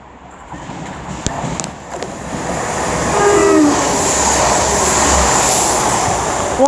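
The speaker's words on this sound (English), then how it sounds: "it's a Turbo Star that is going to be working the Hereford to Birmingham." A Turbostar diesel multiple unit passes through Barnt Green station on the Lickey Line, rising from a distant rumble into a loud, steady roar with a brief horn-like tone in the middle.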